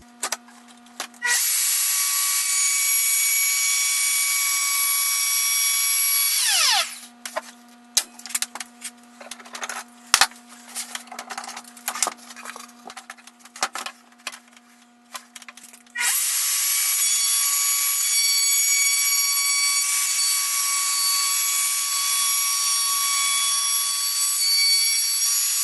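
A wood router cuts freehand in a workshop, its high motor whine loud and steady, then broken by rough, stuttering bites into the wood before the smooth whine resumes.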